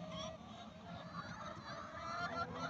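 Poultry calls at a rural house, a busy cluster of honking, clucking bird voices overlapping at moderate distance, low in level and continuous throughout.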